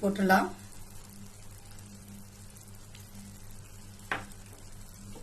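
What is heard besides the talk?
sizzling chicken as fried coconut is added and stirred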